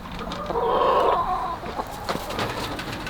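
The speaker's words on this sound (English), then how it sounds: "all the chickens are gonna come out here" Chickens cluck in a busy, overlapping flock, with a louder burst of clucking early on and scattered squawks continuing close by.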